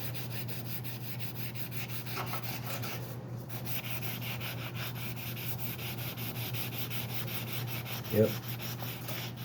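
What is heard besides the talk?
sanding handlebar with sandpaper on sanding block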